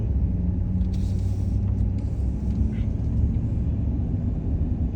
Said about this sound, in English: Let's let this car pass. It's kind of going slow.